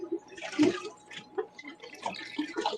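Water is drained from a planted aquarium tank in sporadic splashes, gurgles and drips, close and uneven, with someone talking over the sounds.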